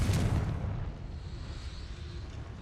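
A Confringo fire spell explodes in Hogwarts Legacy, a single heavy boom up close that rolls off into a low rumbling tail, with no talk over it.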